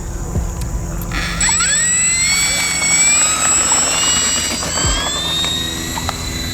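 A HobbyKing/Arrows Corsair 1100mm RC plane takes off: the electric motor and propeller give a loud, close whine that climbs steadily in pitch as it speeds up.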